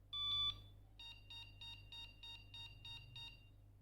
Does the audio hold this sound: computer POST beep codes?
yes